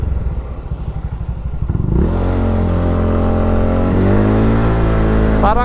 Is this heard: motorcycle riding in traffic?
yes